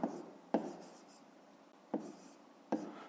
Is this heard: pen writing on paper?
yes